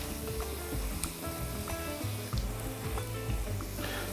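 Okonomiyaki with ham frying in a pan, a steady close sizzle and crackle running without a break, with faint clicks and small pops over it.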